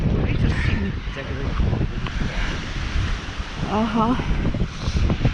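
Strong wind buffets the microphone on the Martyshkino shore of the Gulf of Finland, a steady close rumbling roar mixed with surf, with a brief spoken word on top.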